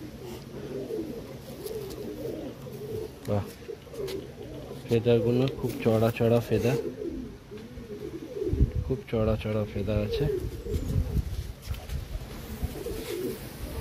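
A restless Madrasi long-distance racing pigeon held in the hand gives soft, low coos, nearly continuous through the clip, beneath a man's close, steady talking.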